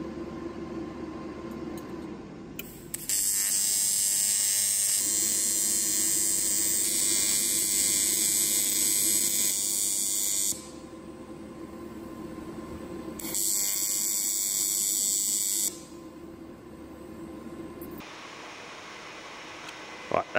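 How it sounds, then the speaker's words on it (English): An electric welder works on a metal tank during a turbocharged Ford Fiesta build, giving a steady loud crackling buzz in two long bursts with a short pause between, followed by a quieter hum of the machine. "Right, that's all welded up."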